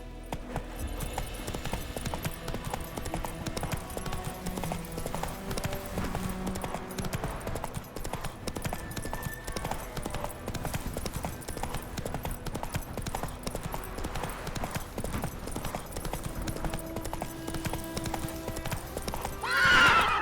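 Roach, the horse in The Witcher 3: Wild Hunt, galloping with continuous rhythmic hoofbeats over game music, ending in a loud whinny.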